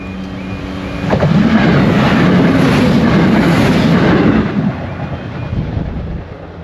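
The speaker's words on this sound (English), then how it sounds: "I think we've got a train coming" A deep, heavy rumble swells in after a quiet start, holds loud for several seconds, then eases off as a train passes close by near Annesley on the Great Central Railway.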